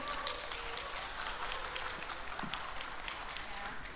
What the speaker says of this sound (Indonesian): Kita kasih tepuk tangan yang meriah buat Namira.